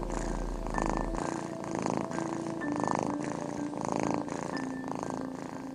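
Chubby resident temple cats purring at a Suzhou temple, a steady low rumbling purr with a faint mix of background sounds throughout.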